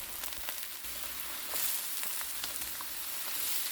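Snap peas and ham sizzle steadily in a hot stir-fry pan with pineapple, a continuous close frying hiss with a few brief crackles and stirring scrapes, no talking.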